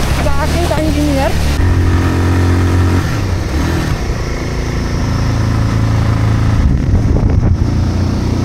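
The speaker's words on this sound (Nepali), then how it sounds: "बाइक दौडायो।" A motorbike engine revs and roars on a mountain trail in the Himalayan foothills near Pokhara, loud and close, with pitch rising and falling throughout and a voice talking over it.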